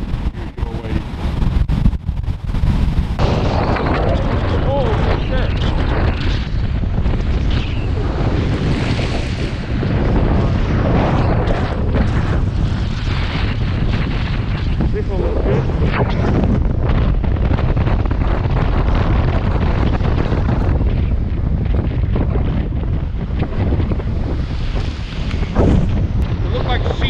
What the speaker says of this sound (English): look at the size of these waves